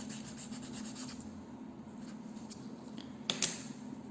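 Quiet, steady rasping of a fingernail extension being filed for finishing, soft strokes close up with a couple of small clicks near the end.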